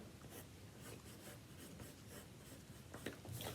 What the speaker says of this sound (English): I'm gonna put something called visual texture, a little bit with a crayon